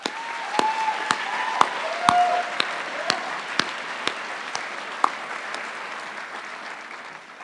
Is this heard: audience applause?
yes